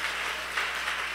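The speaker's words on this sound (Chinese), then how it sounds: "大家给自己掌声鼓励，好不好？" Audience applause at a live open-parliament hackathon event, a steady, fairly faint wash of clapping with a low hum underneath and no talk.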